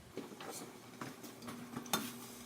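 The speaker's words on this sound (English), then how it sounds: "as you stir in those last ingredients" Soft, faint scraping and light taps of a spoon stirring grated cheese and dairy-free margarine into a mushroom risotto in a pot, a few irregular clinks over a low hiss.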